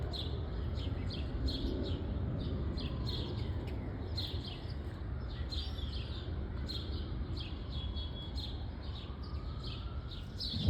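Birds at a garden bird feeder near a grapevine, repeated bright chirps and tweets in quick bursts throughout, set over a steady background hiss of outdoor noise.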